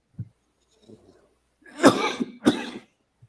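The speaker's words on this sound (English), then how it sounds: "I don't know why I'm coughing now" Two harsh coughs close to the listener, preceded by a few faint throat noises and small bumps.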